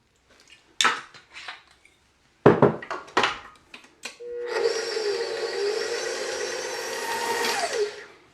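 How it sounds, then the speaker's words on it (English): A blender whirs steadily for about four seconds as it mixes gluten-free chocolate chip cookie dough, preceded by several clattering knocks of dishes and utensils. "I've just blended that for about 30 seconds or so"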